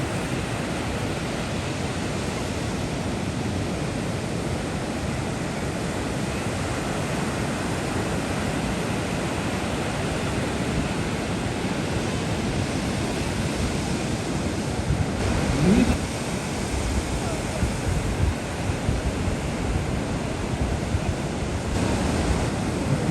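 Continuous roar of ocean surf at a surfing competition in Aceh, waves breaking in a steady broad wash, fairly loud with a wind-like hiss throughout.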